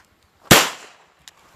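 A single sharp gunshot from an Armscor .38 revolver cracks loudly outdoors and decays quickly, followed by a faint distant tap.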